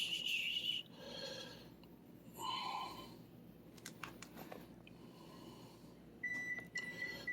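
A home kitchen oven sounds its preheat-finished alert: a steady electronic beep near the start, another later on, and faint tones in between over quiet room noise with light handling sounds.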